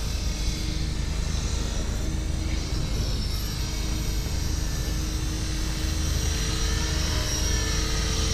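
An HK 450 radio-controlled helicopter hovers and flies nearby, its rotor and motor giving a steady, continuous high-pitched whine and buzz at an even loudness throughout.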